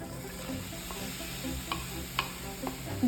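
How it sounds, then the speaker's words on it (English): Finely cut ginger, garlic and onions sizzle gently in oil over low to medium heat, a steady soft hiss with a few faint clicks of stirring. "This is a good type of sizzling,"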